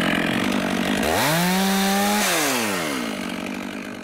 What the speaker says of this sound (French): Tu fais une petite marque là à la tronçonneuse.